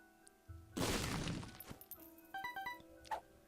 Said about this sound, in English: Let's pop down a bomb right here.